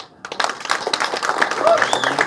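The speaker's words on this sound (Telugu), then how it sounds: "అందుకే ఇప్పుడు ఈ చప్పట్లు కొడితే వినపడుతుంది" An audience applauds at a speech event, scattered clapping that builds to a steady patter, heard alongside a voice and a few whistles.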